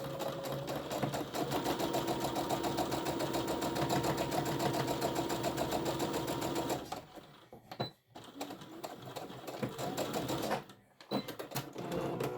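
A sewing machine stitches a bag seam from one end to the other, a steady close mechanical whir lasting about seven seconds, then stopping and restarting in shorter bursts separated by brief pauses.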